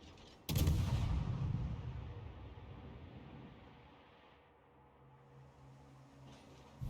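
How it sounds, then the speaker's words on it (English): Warship main guns fire armor-piercing shells in a naval video game, a single sharp heavy blast followed by a long rumbling decay that fades into quiet background noise. "There, fire, automatic switching to AP, Concentrate fire on the enemy warship."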